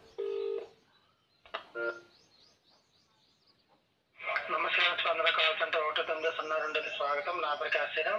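Telephone keypad tones ring out in short bursts at the start of a live phone call, then after a quiet pause a caller's voice comes through the line and talks steadily.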